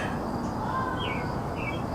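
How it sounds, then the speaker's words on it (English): Faint chirps and short tweets from birds outside a window over a steady background hum, sparse and soft. "I don't know if you guys can hear those birds"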